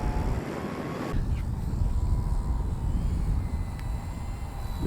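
An E-Flite Timber X 1.2m RC airplane flies overhead with a steady electric motor whine, partly buried in heavy wind rush on the microphone.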